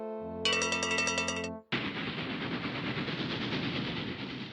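A cartoon train sound effect in a sound-guessing game: a brief chord-like train whistle blast, then a steady, loud rumbling chug that runs on without talk.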